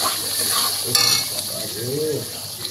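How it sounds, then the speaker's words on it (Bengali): Masala poured in and fried for butter chicken gravy with garam masala, a close sizzle with a metallic clink of a utensil against the pot, and a brief voice sounding faintly in the background. "মশলাটা ঢেলে দেবো। মশলাটা কষাবো।"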